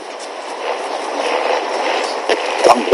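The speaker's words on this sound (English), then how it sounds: "This is like trains." A train rumbles past in the Call of Duty DMZ game, with a steady loud clattering roll and some sharp metallic clanks toward the end, no speech over it.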